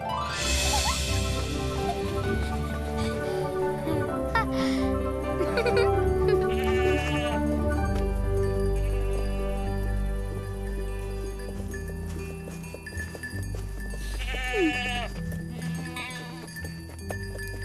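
Goats bleating in the mountains, repeated calls rising over a dense bed of music and other sound, fairly close and continuous throughout.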